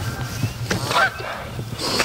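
Three pairs of upset Canada geese honk on a lake, a few loud calls rising from steady outdoor background noise.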